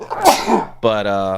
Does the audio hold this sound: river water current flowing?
no